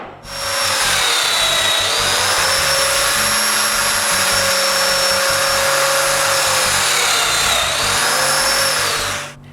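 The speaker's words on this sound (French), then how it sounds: "je marque puis je perce des mortaises pour des dominos" A domino joiner plunges mortises into wood pieces for a miter saw cabinet, its loud steady high-pitched motor whine running continuously for several seconds with a brief dip near the end.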